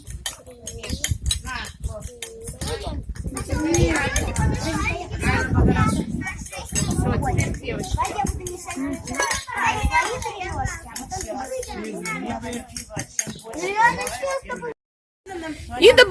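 Children stir cupcake batter in bowls with metal spoons, scraping and clinking steadily throughout while children and adults talk and chatter over the scraping.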